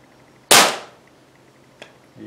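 A FWB 65 air rifle fires once with a sharp, loud close crack that tails off quickly, followed by a faint small click and then a low hum.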